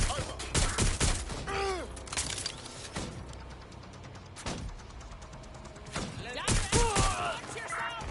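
Gunfire in the game Watch Dogs Legion, repeated sharp loud shots in clusters near the start and end, with game voices and effects in between.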